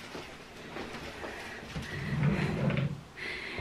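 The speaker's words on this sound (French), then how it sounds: "je vais vous montrer quand même tous les tiroirs" Dresser drawers in a bedroom are pulled open, giving a rumbling, scraping slide that swells near the end, with no one speaking.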